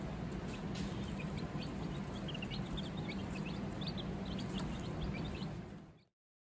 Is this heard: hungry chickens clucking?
yes